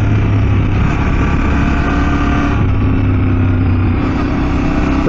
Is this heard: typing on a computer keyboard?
no